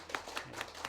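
Church congregation applauding a newcomer during Sunday worship, a short burst of steady hand claps sounding moderately close and even.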